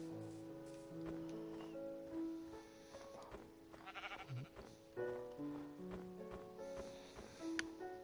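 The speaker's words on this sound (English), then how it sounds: "you've got a sheep that laugh at you for walking past" Sheep bleat in a Minecraft video game, a few short bleats heard over a soft looping music background.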